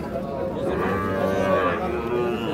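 Young Sahiwal bull calves moo loudly and continuously at a busy cattle market, their low drawn-out calls close and overlapping with crowd noise.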